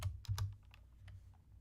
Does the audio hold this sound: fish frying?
no